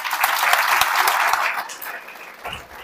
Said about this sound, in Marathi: मीच तुमच्यासाठी सगळे टाळ्या वाजवूया